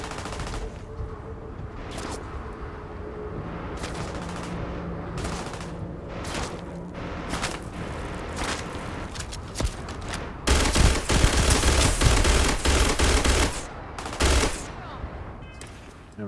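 Rapid bursts of automatic gunfire ring out in a Starfield firefight, volleys repeating and intensifying toward the middle, with a voice speaking now and then in between.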